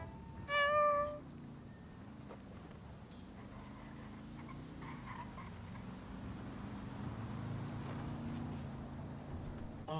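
A cat in a GTA roleplay game gives one clear, fairly loud meow near the start, followed by a low humming engine-like drone that continues quietly to the end.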